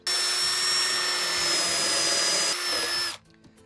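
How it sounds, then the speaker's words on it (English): A power drill with a 1/2 inch spade bit bores weep holes in the bottom of a wooden garden wall planter, one loud continuous high whine lasting about three seconds before stopping abruptly. "next step is to drill the weep holes in the bottom so this thing can drain"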